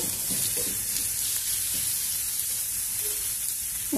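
Chopped onions and turmeric fry in a pan with a steady, dense sizzle and a few faint stirring scrapes, no voices.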